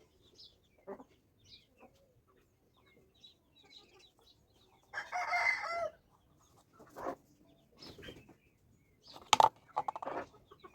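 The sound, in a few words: domestic chickens clucking and crowing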